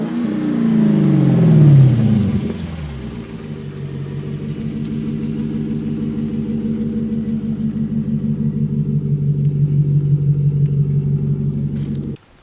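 The V8 engine of a 2008 Lexus IS-F revs up with a rising growl, then drops into a deep, loping idle with a steady pulsing burble, close and loud until it cuts off.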